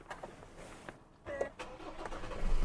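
A 2020 Ford Ranger Wildtrak with the 2.0L engine cranks and fires up, a quiet brief starter whir followed by a low engine rumble that swells toward the end.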